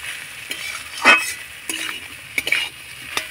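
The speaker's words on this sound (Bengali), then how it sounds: "এবার আমি আলুর সঙ্গে মশলাটা খুব ভালো করে কষিয়ে নেব।" Mashed potatoes and spices being stir-fried in a pan, with a soft sizzle under scattered scraping and clinking strokes of a utensil, near and fairly quiet, with no voices.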